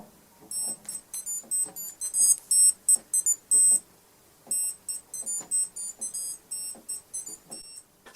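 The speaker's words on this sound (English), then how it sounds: "musical watch with an alarm" An old, basic musical alarm watch with no second hand plays its alarm: a tiny, thin electronic melody of high bright beeps in quick tuned phrases, broken by short gaps, close and fairly quiet.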